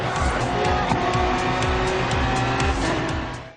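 Racing car engine roaring loudly and continuously in Forza Horizon 3, with repeated tire squeals and skids mixed in over a steady driving soundtrack, fading slightly at the end.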